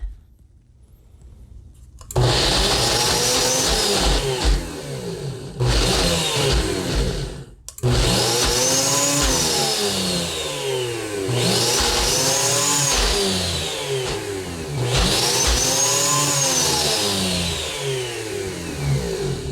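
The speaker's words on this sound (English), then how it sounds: "we could have a blender that isn't so loud" A blender mixing black bean taquito filling whirs loudly in several bursts, pausing briefly between pulses, with the motor pitch rising and falling each time.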